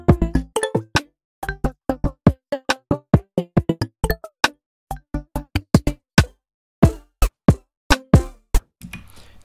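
A song played back through Ableton Live's transient warping at lowered sensitivity, heard as choppy, stuttering bursts of sharp attacks separated by brief silences in an irregular rhythm, loud and alone.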